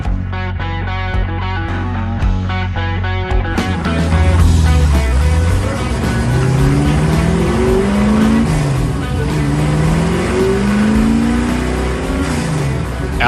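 Javelin hot rod race car on a track, its engine starting low and rumbling, then revving up through rising and falling gear changes, loud and close throughout.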